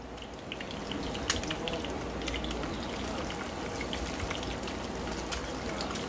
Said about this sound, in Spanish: vamos a freír ahí un poco de huevo